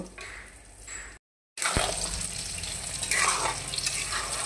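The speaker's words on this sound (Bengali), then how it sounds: "তো নাড়াচাড়া করছি, নিচে লেগে যাবে।" Vegetables being stirred in a pan while cooking, a continuous scraping sizzle with a brief silent gap near the start, close and steady, with a sharp knock of the utensil against the pan.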